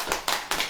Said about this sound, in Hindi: ताली वाली बजाइए।